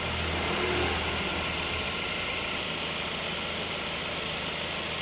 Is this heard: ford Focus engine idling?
yes